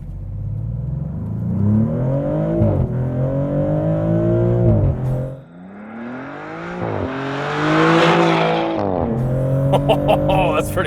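A 2024 Maserati GranTurismo Modena with a twin-turbo V6 accelerating hard without launch control, engine revving up through gears with short pauses at shifts, loud and close from inside the car.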